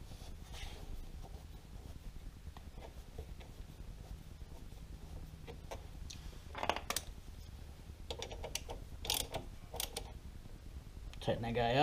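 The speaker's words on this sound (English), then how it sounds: "thread your banjo bolt back in" Small metallic clicks, taps and scrapes come from a banjo bolt being threaded back into the rear brake of a Yamaha Warrior ATV, quiet and close, with a few sharper clatters near the end.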